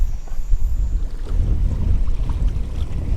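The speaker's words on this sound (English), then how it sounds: "this wind has picked up a notch or two, man. It is blowing probably close to like 22 miles per hour sustained right now" Strong wind gusts on the Surfside, Texas coast buffet the microphone in a steady, heavy low rumble, continuous and loud for the whole stretch, with no talking.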